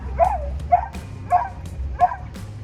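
A large dog barks four times in an even rhythm, each bark close and clear over a low steady hum.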